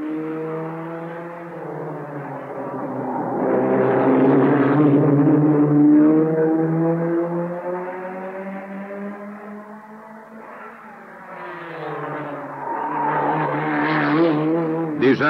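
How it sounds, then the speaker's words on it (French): Race car engines roar at the 1966 24 Hours of Le Mans with strong, smooth tones that rise and fall in pitch as the cars pass, loud and continuous, swelling and fading twice. "le vacarme des moteurs"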